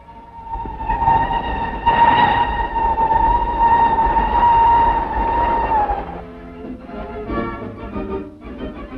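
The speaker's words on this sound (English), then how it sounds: "In 6½ hours, the Coronation Express can reach Glasgow, a steel arrow whistling its way across the land." Coronation Express steam train speeding along the rails, a loud sustained whistle blast over continuous rumbling wheels, then rhythmic clattering of carriages passing close by.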